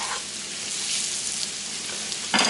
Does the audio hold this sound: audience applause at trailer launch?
no